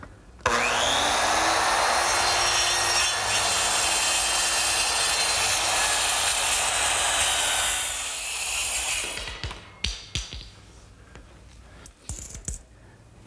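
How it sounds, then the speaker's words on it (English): A small circular saw makes a cross cut in wood along a clamped straight edge, whining loud and steady for several seconds before spinning down, followed by a few sharp knocks and clatters. "my small circular saw"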